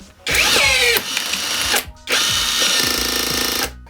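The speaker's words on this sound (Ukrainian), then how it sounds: "Так, давайте встановлю заклепку і побачимо, як це все справа відбувається." A Revolt cordless rivet gun sets a rivet with close, loud bursts of motor whine that rise and fall in pitch. It stops briefly, then runs again in a second long whirring burst.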